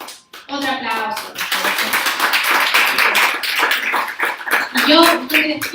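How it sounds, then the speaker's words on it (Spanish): Audience applause at a civic forum held by a journalists' association, close, fairly loud clapping with a voice speaking briefly at the start and again near the end. "Otro aplauso."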